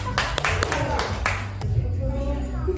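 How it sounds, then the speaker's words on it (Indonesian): A small group at a teacher training session claps briefly for a couple of seconds, with voices chattering in the room at the same time. "Tepuk tangan"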